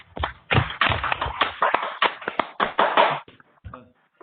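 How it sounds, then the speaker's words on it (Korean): Audience applause welcoming the speaker at the 14th Wednesday forum on direct democracy, a dense burst of hand claps that fades out near the end. "박수로 맞이해 주시기 바랍니다"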